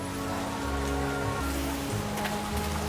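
Rain falls steadily on wet, rain-soaked pavement on a dark night in the video game World of Goo 2, a constant patter blended with sustained musical tones.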